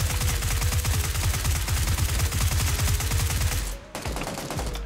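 Rapid automatic gunfire from PUBG, a dense rhythmic burst of shots close and loud for several seconds, a brief pause, then more firing.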